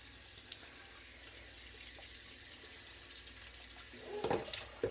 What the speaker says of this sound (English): Dump these back in, then we're gonna cover in hot water and then boil.